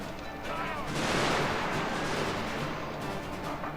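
Musket volleys in a FOTS video game battle: a dense, rolling crackle of gunfire that swells and lingers for several seconds, with faint talk underneath.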